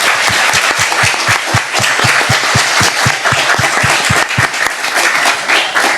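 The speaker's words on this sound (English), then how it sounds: "let's give a big round of applause to Stevo Steven" An audience at a workshop on journalists' safety gives a loud, sustained round of applause, with sharp individual claps standing out in a quick, regular rhythm over the general clatter of hands.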